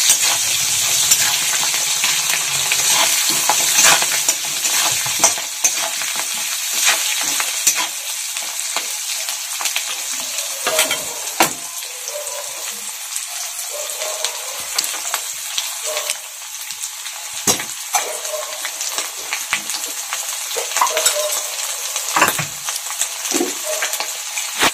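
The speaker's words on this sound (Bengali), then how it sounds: "আমি এটাকে নেড়ে চেড়ে ভাজা হয়ে গেলে তুলে নিয়ে রাখবো।" Food being stirred and fried in a pan for an egg curry, with a steady close sizzle and repeated scraping and clinking of the spatula throughout, no voices.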